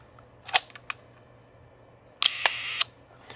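A Yashica Lynx 14 rangefinder camera fires its shutter on a half-second exposure: a few small clicks, then a sharp open snap, a half-second gap and a closing clack, close and crisp with no talking.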